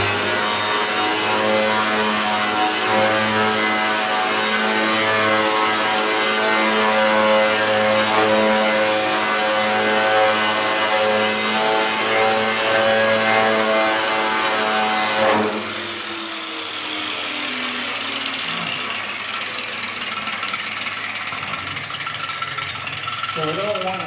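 A spinning shrinking disc heats an AMX car hood, giving a loud, steady whining hum that cuts off about two-thirds of the way through, leaving a quieter rough scraping hiss.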